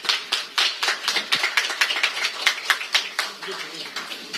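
Audience at a People Power Party fair-election pledge ceremony clapping, a steady run of sharp, moderately close hand claps with an even rhythm that thins slightly toward the end.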